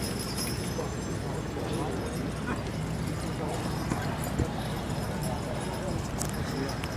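Horse hooves clip-clop steadily on a hard surface amid a noisy outdoor background, with people talking faintly nearby.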